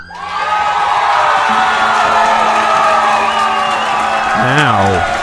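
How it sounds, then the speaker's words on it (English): A crowd cheers and applauds loudly, with whoops and shouts over dense clapping; a voice rises in a wavering, sliding call near the end. "thank you for the cheers, thank you for the applause."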